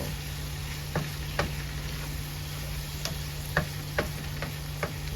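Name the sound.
spinach cooking in a pan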